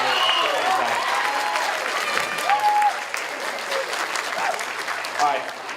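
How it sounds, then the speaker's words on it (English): Applause from the audience at a spring school band concert, a steady wash of clapping with a few voices and whoops rising through it, fairly loud and sustained throughout. "another round of applause for every student that's got an award tonight"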